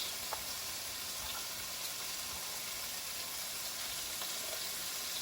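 Ginger and scallion whites sizzle steadily in a hot pan for a Hoisin honey chicken, a constant soft hiss of frying with faint stirring clicks and no talking.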